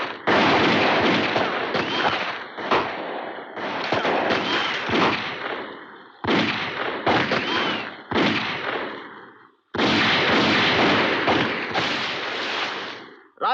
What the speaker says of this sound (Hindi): राज, हमारे पास गोलियां बहुत कम हैं।